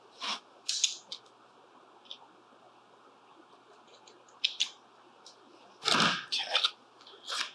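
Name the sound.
scissors cutting a vinyl body wrap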